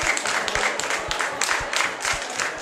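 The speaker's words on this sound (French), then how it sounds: "Je pense qu'on peut les applaudir encore une fois." An audience applauds together after a performance, with dense, sustained clapping from a crowd that is fairly close and steady for a few seconds.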